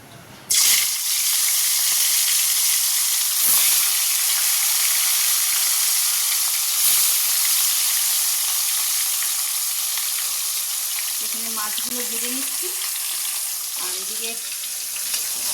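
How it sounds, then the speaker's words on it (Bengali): Fish frying in a pan hisses in a loud, continuous, close-up sizzle that barely changes, with a couple of faint knocks or utensil sounds near the end. "আমার এদিকে তো মাছ ভাজাটা বসিয়ে দিয়েছি"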